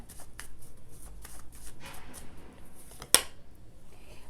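Tarot cards being shuffled and drawn in a reading, soft repeated riffling and sliding of cards close by with a sharp snap near the end.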